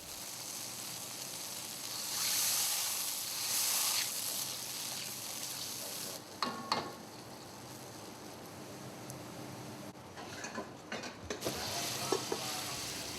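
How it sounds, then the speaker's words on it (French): A sherry sauce of manzanilla or fino with fried bread slices sizzles over high heat while it is stirred, a steady frying hiss with occasional scraping stir strokes and no talk. "Bien mélanger le tout et laisser quelques minutes à feu vif pour que l'alcool s'évapore."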